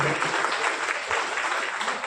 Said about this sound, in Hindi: हम सब तालियों से स्वागत करें।